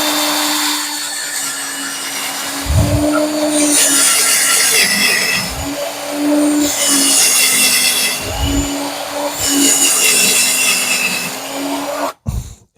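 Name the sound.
power drill boring a hole in wood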